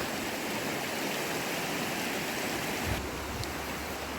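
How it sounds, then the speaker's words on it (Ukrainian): A fast mountain stream rushes down into a river in the Zakarpattia mountains near the Hirska Tysa sanatorium, a steady close broadband wash of flowing water with no speech. "Ось з гір такий струмочок стікає прямо в річку."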